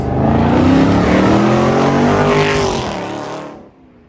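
Cars accelerate hard past the listener on a street in Fort Lauderdale, one chasing a Porsche, a loud, close engine roar with a rising pitch that fades away over about four seconds.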